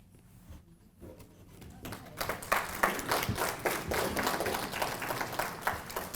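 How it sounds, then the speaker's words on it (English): Audience at an educational access conference luncheon breaking into applause, starting quietly and building into sustained, moderately distant clapping from a crowded room. "Let us please give Superintendent Owoh one more applause"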